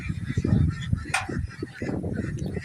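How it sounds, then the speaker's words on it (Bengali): Pekin ducks honk and quack nearby over splashing water noise at a duck farm, a few short calls in quick succession. "দেখুন এই যে হাঁসগুলো এখন পানিতে নেমে কীভাবে ছোটাছুটি করছে"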